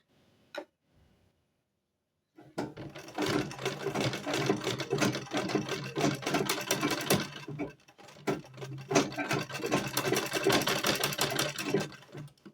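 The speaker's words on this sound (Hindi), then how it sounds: "यहाँ से सिलाई लगानी है और फिर ये दोनों भाग को जोड़ के सिलाई लगा देनी है" A sewing machine stitches pieces of a baby frock together, running in two long bursts of rapid close mechanical clatter after a brief click and a quiet start, with a short pause between runs.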